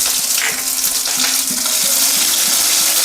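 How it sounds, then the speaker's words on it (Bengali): Ginger and green chilli fry in hot oil with whole cumin, dry red chilli, garam masala and bay leaf for chana dal, a loud close sizzle with regular light clinks of stirring. "এটা একটু ভেজে নিই"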